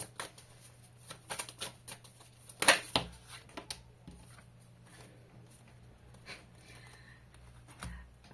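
Tarot cards are shuffled close up in soft, brief riffling bursts, with one sharper flurry and light papery taps in an otherwise quiet room.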